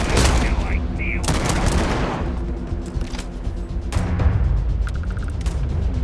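Rapid gunfire in the video game Starfield, dense overlapping bursts and booms filling the scene loudly throughout, with shouted game voices mixed in.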